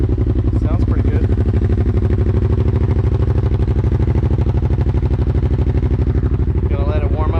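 A Kawasaki Brute Force 750 ATV idles steadily while warming up after sitting for a month, a close, loud, even throbbing engine rhythm that continues unbroken, with faint voices at the start and end.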